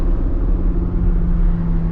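Low, steady exhaust rumble from a modded mid-engine Audi R8 V10, heard from inside the car as a loud, continuous drone with no speech.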